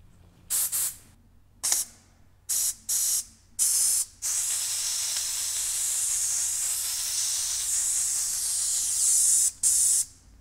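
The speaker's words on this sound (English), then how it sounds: "So we'll go over here to the air compressor. Let's blow these out and see what comes out of it." Compressed air hisses hard through a clogged engine line on an abandoned airplane, a series of short sharp bursts followed by one long sustained blast, then a final brief burst, loud and close with no talking.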